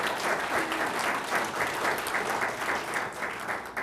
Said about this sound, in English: Let's have a round of applause for the candidates.